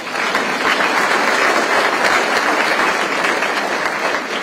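A room of breakfast attendees at a school-district event claps for the superintendent, dense close applause that stays loud and steady throughout without any talk.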